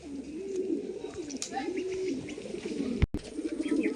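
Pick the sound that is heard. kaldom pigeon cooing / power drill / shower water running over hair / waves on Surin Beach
kaldom pigeon cooing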